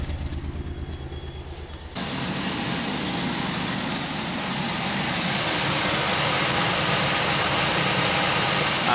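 A Pontiac Aztek idles with a newly fitted exhaust, its steady, loud, rumbling drone filling the recording after a quieter opening couple of seconds.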